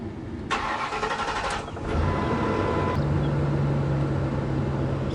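A Ford E350 box truck engine cranks briefly and catches, then settles into a steady low idle, close by with no talk.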